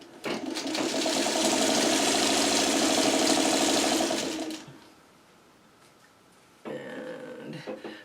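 A sewing machine runs in one fast continuous burst for about four seconds while stitching a churn dash quilt block, then stops, with a shorter second burst starting near the end.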